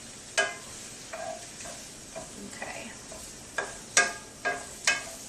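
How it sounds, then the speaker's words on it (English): Garlic and onions frying in a non-stick skillet with a utensil stirring them, a soft background sizzle broken by several sharp scraping knocks against the pan, close and moderately loud, no talking. "I kind of tend to just stir it around a lot because I don't want it to, it's not going to stick because I have a non-stick skillet"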